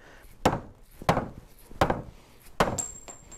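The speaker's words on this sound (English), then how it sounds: "So nice dead blow hammer" A plastic-faced dead blow hammer strikes a part of a 1914 Studebaker SC-4 front wheel during disassembly: four firm, evenly spaced thuds, close and loud, in an otherwise quiet room.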